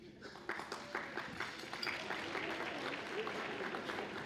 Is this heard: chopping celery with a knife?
no